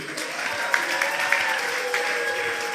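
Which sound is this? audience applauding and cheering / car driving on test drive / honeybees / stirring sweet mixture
audience applauding and cheering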